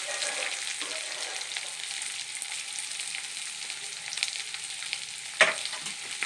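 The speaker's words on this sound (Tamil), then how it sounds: "ஒரு பெரிய சைஸ் வெங்காயம் மெலிசாக கட் பண்ணி வச்சுட்டு அதையும் சேர்த்துக்கலாம்." Thinly sliced large onion frying in oil with curry leaves, a steady close sizzle with faint scraping stirs and one sharp clatter near the end, no voices.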